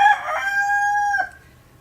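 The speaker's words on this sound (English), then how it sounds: "That's a young chicken." A young rooster crows once, a close, loud, slightly thin cock-a-doodle-doo that holds a strained note and breaks off after about a second.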